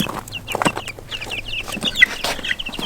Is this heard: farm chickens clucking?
yes